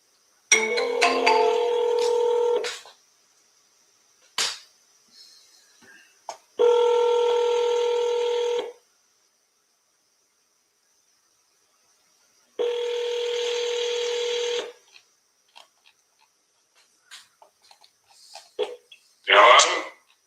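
Phone call audio with repeated electronic ringback tones in long steady bursts separated by silence, followed by scattered short beeps and clicks; clear and fairly close.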